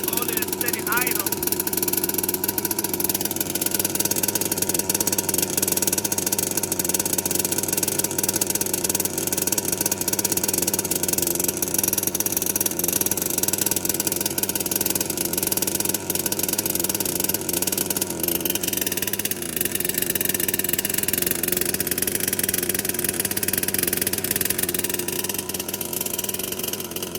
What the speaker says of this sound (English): So she seems to be idling pretty good. She's holding a steady idle.